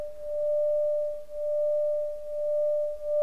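A Tibetan singing bowl with full-moon hammering rings with a steady, pure sustained tone that swells and wavers slowly, alone without any talking.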